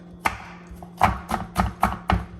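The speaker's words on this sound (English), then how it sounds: "Now I'm gonna go ahead and start chopping my garlic." A knife chops garlic on a cutting board in five or six crisp, close strikes at a steady, unhurried rhythm.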